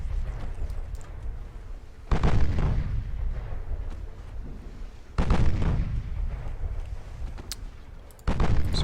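Warship main guns boom in Ultimate Admiral: Dreadnoughts, three heavy, loud salvos spaced about three seconds apart, each with a sharp blast and a long rumbling decay over low background noise.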